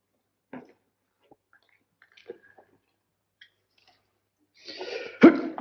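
A sneeze bursts out loudly near the end of a quiet interior scene from a 1942 Sherlock Holmes film, preceded by a soft breath and a few faint rustles and small sounds.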